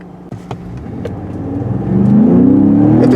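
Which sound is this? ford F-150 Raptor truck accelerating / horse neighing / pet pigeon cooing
ford F-150 Raptor truck accelerating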